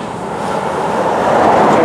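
A freight train passes on the Florida East Coast main line in Florida, a loud, steady rumbling roar that builds slightly and holds, with no voices.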